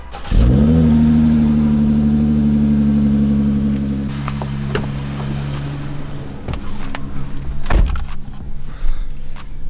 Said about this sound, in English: let's get a cold start going and see how it sounds